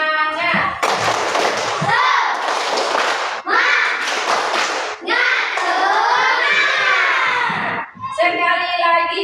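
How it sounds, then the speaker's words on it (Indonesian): A group, seemingly children, performing a rhythmic spirit clap in a classroom, with patterned bursts of claps and taps mixed with chanting voices, loud and close, separated by brief pauses. "Sekali lagi tepuk semangat."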